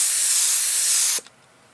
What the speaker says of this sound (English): I'm just spraying some air on it.